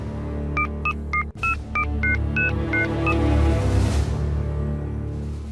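A quick series of about ten touch-tone beeps as a phone number is keyed in, clear and close over a low background hum.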